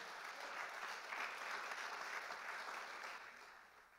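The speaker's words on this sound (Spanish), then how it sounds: "Dele ese aplauso al Señor fuerte." Congregation applauding during a church sermon, a full, steady burst of many hands clapping that fades slightly at the end, heard at a distance with no talk.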